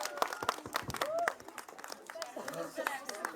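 A group claps in scattered, uneven bursts at an evening awards program at a children's camp, loudest early and then thinning out, while voices talk over it throughout.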